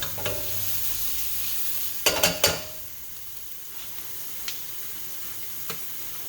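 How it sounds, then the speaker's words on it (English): Cooked spaghetti squash flesh being scraped out with a utensil, a quiet, steady rasp broken by a short cluster of sharp scraping strokes and a few isolated clicks and taps. "The deeper you go into it, the more meat you'll get out of the squash."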